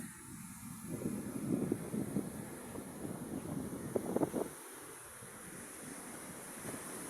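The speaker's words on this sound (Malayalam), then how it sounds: "തിരമാലയൊക്കെ നല്ല സ്ട്രോങ് ആയിട്ട് പൊന്തുന്നുണ്ട്" Strong sea waves at a beach under a cloudy sky, with a broad rushing surge swelling and rolling for several seconds and then easing to a quieter hiss, mixed with wind buffeting the microphone.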